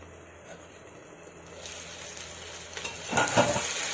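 Taro stolons and shrimp with green chili paste cooking under a lid in a pan: a soft, muffled simmer swells into a louder sizzle, with a brief clatter of utensils near the end.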